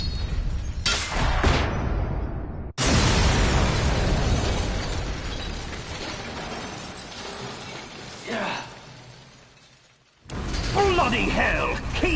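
A loud explosion tears through the Ray Dome in a Metal Gear Solid graphic novel game, a sudden shattering burst followed by long rumbling debris and mechanical crashes, with a second blast near the end.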